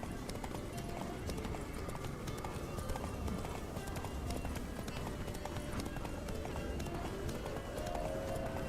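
Hooves clip-clop rapidly in a steady galloping rhythm, close and continuous, with a voice briefly speaking over the pounding run, from the video game The Witcher 3: Blood and Wine.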